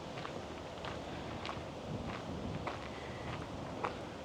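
Footsteps walking along River Drive in Livingston, Montana, beneath large mature trees in full foliage, with soft, fairly regular steps over a steady outdoor background hiss and a few sharper scuffs.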